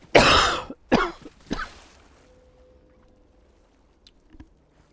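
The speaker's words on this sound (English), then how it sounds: "I'm sorry about my cough, bro." Three harsh coughs from a nearby person, one long and loud followed by two shorter weaker ones in quick succession, then near silence with faint small noises.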